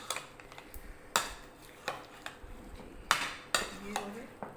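A spoon clinks and scrapes against a bowl while Russian salad with apples is mixed quickly, giving irregular sharp knocks at close range over soft background hiss.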